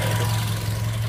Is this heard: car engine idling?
yes